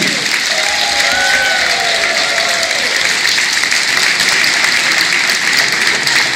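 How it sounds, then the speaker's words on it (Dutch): A carnival society hall audience gives steady, dense applause for the departing youth prince Sjoerd the First, loud and continuous throughout, with a brief whistle or voice rising above the clapping early on. "Een applaus voor stadsjeugdprins Sjoerd de Eerste."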